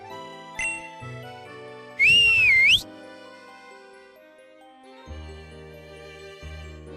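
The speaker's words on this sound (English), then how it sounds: "you may call Mudsdale to ride upon whenever you need. All you have to do is whistle." Whistle in a Pokémon video game to call a Mudsdale mount: a single bright, wavering whistle lasting under a second, rising and falling, over soft game music with chiming tones.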